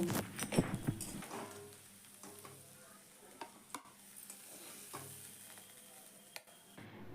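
Potato filling for kachori being stirred in a pan with chopped coriander leaves, a spoon scraping and clacking with a faint sizzle, several sharp knocks early on, then steady quieter stirring.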